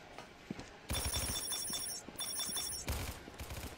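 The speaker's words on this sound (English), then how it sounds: "Shotgun, maybe." Shotgun blasts go off in a multiplayer video game, three or so loud, close bursts a second or two apart, with a high electronic ringing tone under them.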